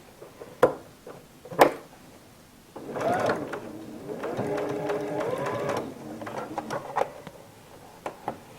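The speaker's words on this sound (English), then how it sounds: "To stitch it, I would start from the outside edge, and you're going to stitch towards the little hair tie twisty thing in there" Sewing machine stitching a fabric scrunchie toward the elastic hair tie inside, a couple of sharp clicks followed by a few short bursts of close mechanical running.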